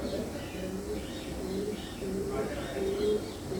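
Pigeons in a loft, black hens and white males kept as breeding pairs, coo in low, soft, overlapping murmurs throughout, close and steady under a faint bird chirp here and there.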